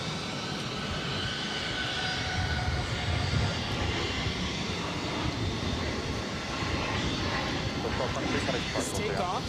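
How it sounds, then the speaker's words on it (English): A Southwest Airlines Boeing 737 MAX 8 jet takes off from Boston Logan, a steady broad engine roar holding throughout, with people talking nearby over it. "This takeoff is Southwest Airlines 1223 taking off to Nashville on a MAX 8"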